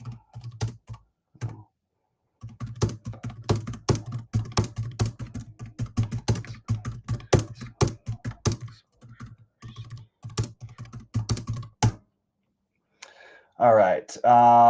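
Rapid clatter of computer keyboard typing, close and fairly loud, running in bursts with brief pauses; a voice speaks between and over the keystrokes.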